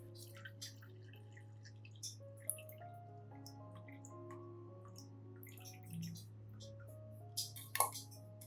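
Homemade liquid orchid fertilizer is filtered to strain out residue, giving sparse, quiet drips and small splashes over a low, constant hum.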